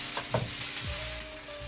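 Chopped shallots, onion and garlic dropped into popped mustard seeds in hot oil, a brief loud sizzle with a couple of thuds and clatters, then settling into a steady frying hiss, no voices.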